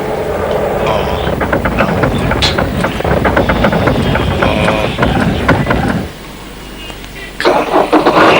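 Car engine cranking and catching, a loud rough mechanical run that drops off abruptly, then briefly revs again, with no one speaking.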